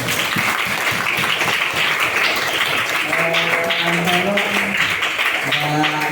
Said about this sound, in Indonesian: Tepuk tangan dan pada Uni